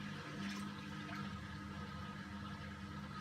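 A Hotpoint WMA32 washing machine drains its water, a steady low gurgling rush with a faint hum, continuous and fairly quiet throughout, with no voices.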